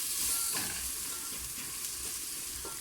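Pilau masala spices fry in a pan for beef pilau, making a continuous close sizzle with a few soft stirring scrapes and no talking.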